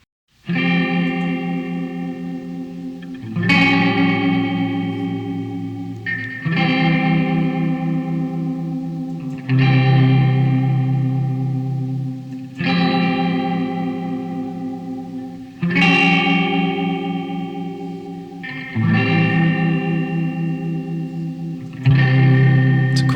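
Electric guitar chords ring out one after another, each swelling with a wavering chorus-style modulation and sustaining until the next strum, with no voices.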